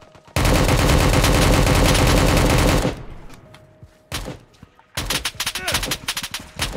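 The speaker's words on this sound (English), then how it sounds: "I'm getting shot at. I'm getting sandwiched." Rapid automatic gunfire in the shooter game Project Delta, one long loud burst, then a pause with scattered shots and a brief voice, followed by another stretch of fast close fire.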